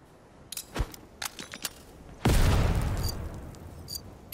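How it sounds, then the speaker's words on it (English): A grenade goes off in the video game Rogue Company, preceded by a few sharp clicks and small impacts, then a loud booming blast with a long rumbling tail; no one talks. "I should be able to bank my grenade"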